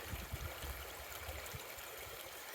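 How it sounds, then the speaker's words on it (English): Creek water in rural Kentucky flows with a faint, steady trickle and babble, heard alone at low level and carrying soft bubbling bursts. "Now, let me show you the creek"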